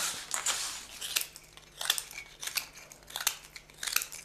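Scissors snip small mosaic pieces in a quick, irregular series of crisp clicks and cuts, close up and fairly quiet, with no talking.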